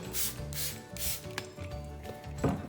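A spray bottle mists a peroxide mixture over pea shoot microgreens in several quick, close bursts with short pauses, alongside a few soft rubbing and handling sounds.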